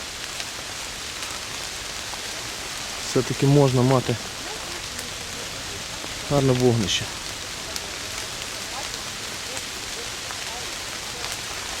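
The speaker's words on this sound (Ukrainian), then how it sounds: "На дворі дощ" Steady rain hisses down at a campsite in the Carpathian mountains, a constant close wash of falling water, while someone speaks briefly twice over it.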